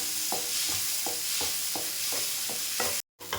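Green peas sauté in a pan for a bottle gourd and pea gravy, a constant hissing fry with rhythmic stirring scrapes about every third of a second, ending in a brief gap of silence.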